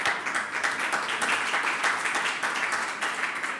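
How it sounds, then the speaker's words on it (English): Audience applause at a COP28 panel on energy access, steady dense clapping from a crowd filling the whole stretch at moderate level without pause. "And I think this deserves a round of applause."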